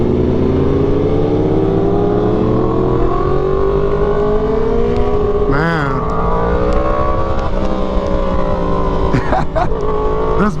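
A Yamaha R1M sportbike ridden hard, its engine a loud, steady high-pitched howl with rising revs and pitch sweeps mid-ride, close-mounted with constant wind roar throughout.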